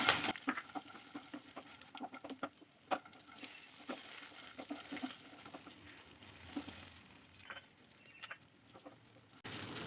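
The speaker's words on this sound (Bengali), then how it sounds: "চিনি বাদামটা একসাথে ভাজা হয়ে যাবে।" Peanuts frying in oil with green chillies for sabudana khichuri, a soft crackling sizzle with irregular pops and scraping stir strokes, fairly quiet and close.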